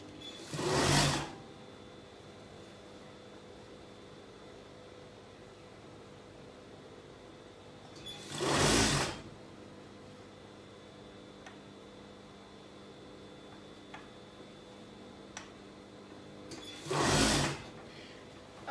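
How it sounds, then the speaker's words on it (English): A sewing machine stitching the sleeve of a circle skater dress in three short bursts, each about a second long, spaced several seconds apart with near silence between and no talking. "So I'll finish sewing this side"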